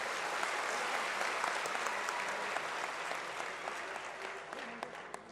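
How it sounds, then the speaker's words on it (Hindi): A gathered crowd at a village event in Madhya Pradesh breaks into sustained applause to welcome guests, dense clapping that holds steady and gradually thins toward the end, with no speech over it. "और सब जोरदार ताली बजा के स्वागत करें।"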